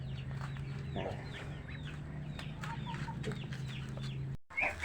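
A Brahma chicken in a coop gives soft, repeated clucks against a steady low hum, while other birds chirp faintly in the background. The clucking is close but quiet, ending in a brief dropout and a rustle.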